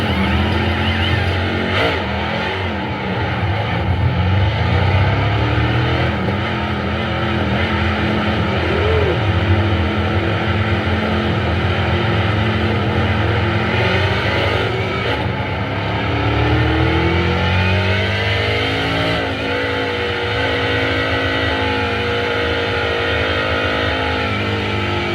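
Race trucks roar around the oval at Kansas Speedway, a dense, continuous engine drone with pitch sweeps as trucks pass and accelerate, loud and sustained throughout with no talking.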